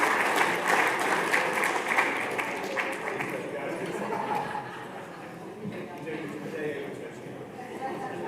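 A conference hall audience at the Co-op Congress applauds the young attendees with sustained, full clapping that carries on for several seconds and eases slightly toward the end, with some crowd murmur and laughter mixed in.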